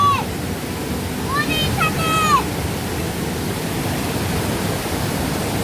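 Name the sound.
mountain stream water flowing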